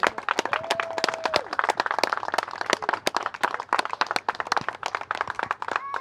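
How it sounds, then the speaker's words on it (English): Wedding guests applaud at a reception, a dense patter of many hands clapping steadily and fairly close, with a brief voice or whistle rising above the crowd now and then. "So, big round of applause to all of you for making it so special for them."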